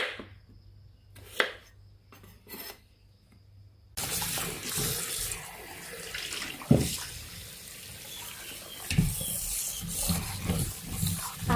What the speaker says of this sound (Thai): นำไปแช่น้ำเพื่อที่จะล้างแป้งเขาออก